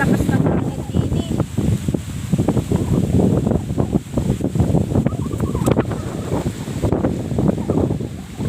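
Strong wind blowing outdoors in an open coastal setting, roaring and buffeting the microphone steadily throughout, with people talking faintly under the gusts.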